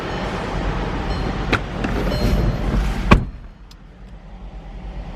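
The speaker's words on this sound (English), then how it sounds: "We've got power windows." Power windows on a 2012 Volkswagen Jetta TDI 2.0 whir as the glass moves, a steady motor hum with a few clicks and a sharp thunk as a window seats, then quiet.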